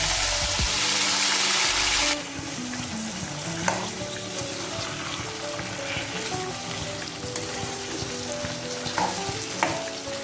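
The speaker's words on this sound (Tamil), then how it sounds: "இந்த பருப்பெல்லாம் நல்லா செவற வரைக்கும் கொஞ்சம் ரோஸ்ட் ஆகணும்." Lentils roasting in a pan for tomato rice, a continuous close sizzle with frequent stirring and scraping strokes, slightly louder in the first two seconds.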